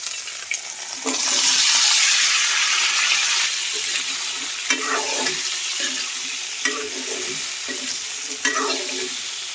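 Cauliflower and potato pieces hit hot oil with bay leaves and ginger, and the pan sizzles loudly and continuously while a spatula stirs and scrapes through it in repeated strokes.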